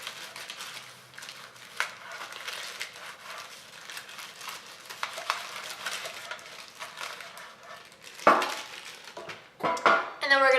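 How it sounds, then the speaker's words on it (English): Butter in a small plastic bag is rubbed around an 8x8 brownie pan, making soft crinkling and rubbing that grows into louder scrapes and clatters of the pan near the end. "we're going to use our greasing trick by using a little bag with some butter on there"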